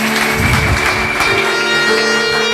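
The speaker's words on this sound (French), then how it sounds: "Acclamons très fort pour le roi des rois." A church congregation applauds and cheers loudly for the king of kings, a dense, steady wash of clapping with voices and a sustained tone mixed in, filling the whole stretch.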